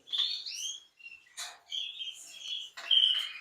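Agate intense red canaries chirp and trill in a breeder's aviary in quick, bright bursts with short pauses between them, close and clear, and no voices.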